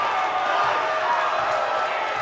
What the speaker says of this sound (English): That brought the crowd to its feet.